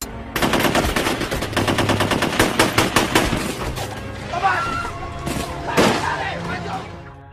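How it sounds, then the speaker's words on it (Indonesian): Cannon booms and rifle fire in a Dutch attack on Tegalrejo during the Diponegoro war, a dense, loud barrage of rapid overlapping shots and blasts running continuously, with a few heavier bursts near the end. "tiba-tiba terdengar dentuman meriam dan letusan bedil"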